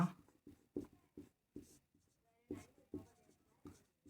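A pen writes on paper in a series of short, scratchy strokes with small pauses between them. The strokes are quiet and close.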